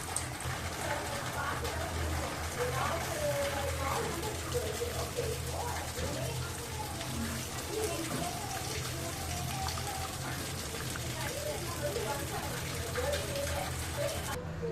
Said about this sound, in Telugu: సో ఇప్పుడు మనము చింతపులుసు యాడ్ చేసుకుందాం.